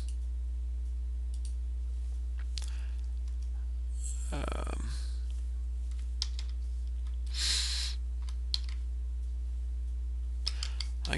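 Soft, sparse clicks and taps of a computer keyboard as a component name is typed in Fusion 360, quiet over a low hum, with a couple of louder rustling bursts in between.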